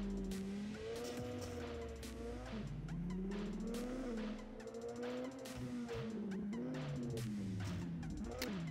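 Racing engine noise from the SBK16 mobile motorcycle racing game, with a steady loud whine that rises and falls in pitch as bikes accelerate and shift, continuous for the whole stretch with no talking.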